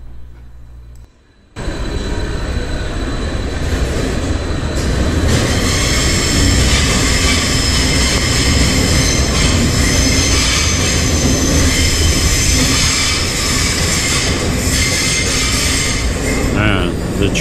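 A graffiti-covered metro train passes close by in Athens at night, a loud sustained roar of wheels and rails with squealing and clatter filling the whole stretch after a brief quieter start.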